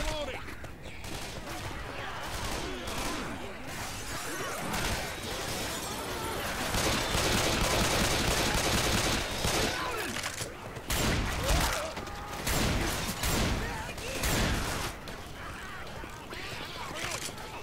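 Heavy gunfire in Left 4 Dead 2 during a New Orleans Square level, dense continuous shooting and chaotic crashes, loud throughout with people shouting over it.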